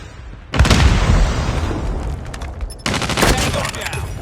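A frag grenade going off in a first-person shooter match, firing the SPR-208, with a loud sudden blast followed by rolling rumble and a second burst of gunfire-like crackle, close and dense.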